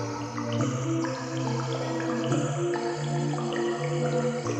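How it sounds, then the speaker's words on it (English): Cave water drip sound effects layered into an R&B beat built in FL Studio, scattered plinking drops sitting among sustained synth chords, fairly quiet within the mix. "I'm turning down these cave drips."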